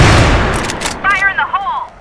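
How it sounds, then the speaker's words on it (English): A flash bomb grenade detonates in the shooter game CrossFire as a loud, close broadband blast that decays over about a second, followed by a short burst of voice. "Fire in the hole! Flash bomb!"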